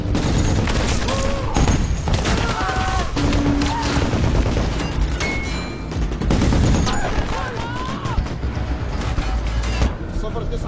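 Firefight in Yemen between patrol soldiers and attackers, dense bursts of automatic gunfire and scattered shots rattling almost continuously, loud and close, with voices and other battle noise mixed in.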